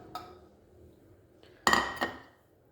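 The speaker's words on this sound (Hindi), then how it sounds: "तो यहाँ पे मैंने कुकर लिया है, कुकर में हम अपने चिकन को ऐड करेंगे।" Raw chicken goes into a pressure cooker with a few sharp metallic clinks and knocks, one faint tap first, then two louder clattering hits close by near the end.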